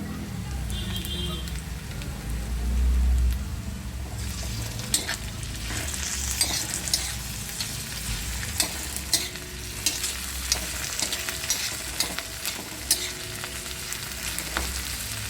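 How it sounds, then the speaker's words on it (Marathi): Curry leaves and tomato hit fried onion in a hot pan, giving a steady close sizzle with scraping stir strokes and occasional sharp ticks and pops throughout. "आपला कांदा भाजून झालेला आहे त्यामध्ये आपले ही कडीपत्तीची पानं आपण त्यात दोन चार टाकत आहोत"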